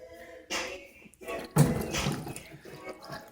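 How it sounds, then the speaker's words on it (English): Water from a gallon jug is poured through a Nissan 240SX coolant hose during a thermostat change, splashing and gurgling in two short bursts with quiet pauses between. "I'm going to just throw water. I got it like in a gallon. Just going to go throw water through this."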